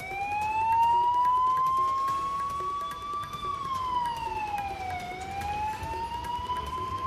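An emergency siren from a fire engine or ambulance during a mock drill in Haryana wails, rising and falling slowly over several seconds, loud and steady with traffic rumble underneath.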